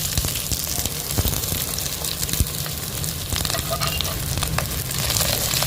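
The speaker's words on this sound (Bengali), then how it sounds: "পেঁয়াজগুলো আমি লাল লাল করে ভেজে নেবো ভালো করে" Chunky onion pieces frying in oil in a pan, a dense crackling sizzle with scattered sharp pops, close and continuous from start to finish.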